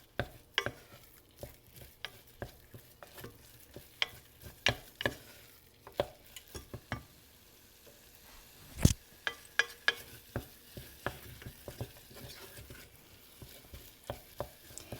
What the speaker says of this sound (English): The next thing we're going to add is 2 cups of whole milk